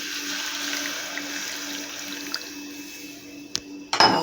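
Pea cooking water being poured into a pan of sautéed white peas kurma base, a steady liquid pour running under kitchen room tone, ending with a couple of sharp clinks of a vessel against the pan.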